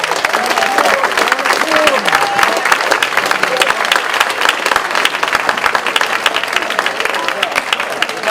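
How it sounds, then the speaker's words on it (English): Audience applause rings out at a debate event, dense clapping from a crowd holding steady and loud throughout. "Can we give them all a round of applause"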